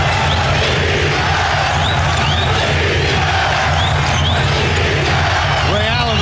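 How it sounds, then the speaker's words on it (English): A packed basketball arena crowd at Staples Center roars in a frenzy during a tight fourth quarter of the 2010 NBA Finals between the Lakers and Celtics, a dense loud wall of cheering and shouting that sustains throughout with whistles and squeaks mixed in. "This crowd in a frenzy. Many on their feet here at the Staples Center."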